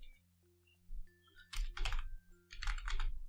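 Rapid keystrokes on a computer keyboard as a password is typed, coming in two short bursts of clicky taps, close and fairly quiet, with a faint tone holding steady underneath.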